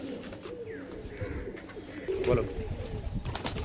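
Pigeons in a loft coo softly in the background, with one clearer coo midway, while a person talks briefly over them.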